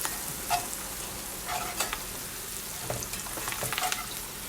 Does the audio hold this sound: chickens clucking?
no